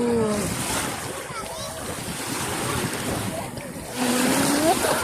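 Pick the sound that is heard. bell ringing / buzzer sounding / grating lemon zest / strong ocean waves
strong ocean waves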